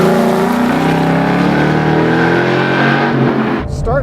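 A Ford Mustang Boss 302 screams around the track at Laguna Seca, its loud exhaust heard from inside and rising steadily in pitch under hard acceleration before a quick dip at the end.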